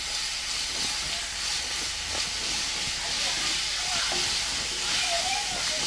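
Grated carrot frying in hot ghee, a steady bright sizzling hiss that carries through the whole stretch at an even, close level, with faint stirring clatter and a soft voice underneath.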